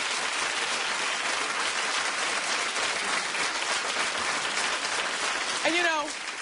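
A television talk-show studio audience applauds in a continuous, even wash of clapping, and a voice cuts in briefly at the very end.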